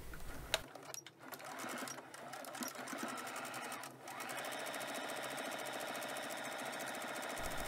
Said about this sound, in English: I take the pin out and I sew a straight stitch